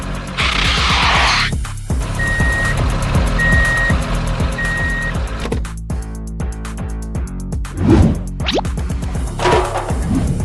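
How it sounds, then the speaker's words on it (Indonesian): An animated blue dump truck arrives hauling construction material, its reversing alarm giving three evenly spaced beeps over a loud rumbling engine, followed by scraping and clattering machinery noises. "Sekarang giliran truk biru itu datang membawa material untuk membangun kembali semuanya."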